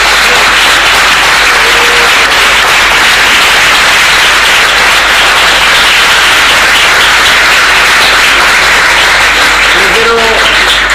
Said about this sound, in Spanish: Yo le quiero agradecer con aplausos